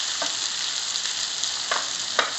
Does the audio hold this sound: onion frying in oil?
yes